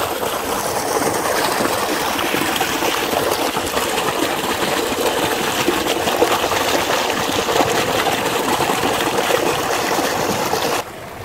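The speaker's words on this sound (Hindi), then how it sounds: "थोड़ा पानी का शोर आ रहा है" Water from a solar-powered tube well in Pakistan gushes steadily into a small pond, a loud, continuous rushing splash close by that cuts out abruptly just before the end.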